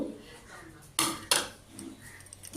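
Potato, onion, green chilli and coriander are mixed in a bowl, with two sharp utensil clinks on the dish over quiet, soft handling sounds.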